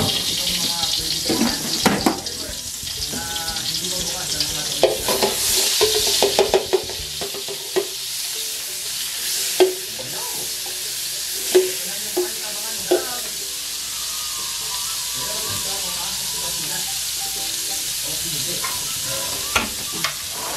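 Butter and a little cooking oil sizzle steadily in a pan for spaghetti sauce, a continuous bright frying hiss with scattered utensil knocks and scraping, fairly close.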